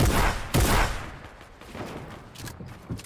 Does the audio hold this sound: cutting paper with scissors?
no